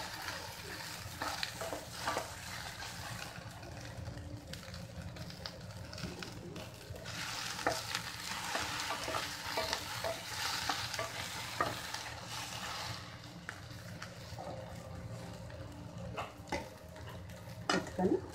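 Sliced okra and onions sizzle steadily in a pan while a spoon stirs and scrapes through them, a continuous close frying hiss with occasional clinks.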